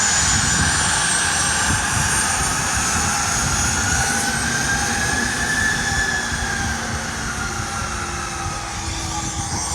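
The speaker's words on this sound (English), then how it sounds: "President Weah is on board this private jet here." A private jet carrying a head of state taxis on arrival at an airport, its engines giving a steady, loud, continuous roar with a rising whine throughout, and no voices.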